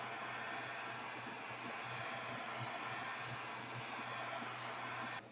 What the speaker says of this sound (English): Now let's go and do the heat shrink and watch these pop out.